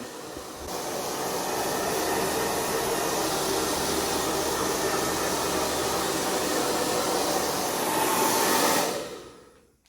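A hair dryer on a warm setting blows continuously up close while drying a cleaned vinyl record, a steady broadband roar that cuts off near the end.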